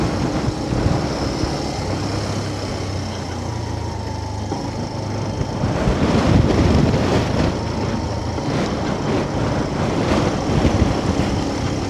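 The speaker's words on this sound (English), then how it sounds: "I think you can probably hear how stiff the wind is here." Strong wind buffeting on Hardknott Pass, a loud, continuous broadband roar close to the microphone that swells in gusts, with a low engine-like hum underneath early on.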